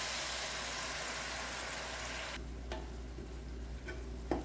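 Bacon and maple syrup cooking in a pan for a Brussels sprouts side dish give off a steady close sizzle, loud at first, then quieter after a sudden drop, with a few soft clinks.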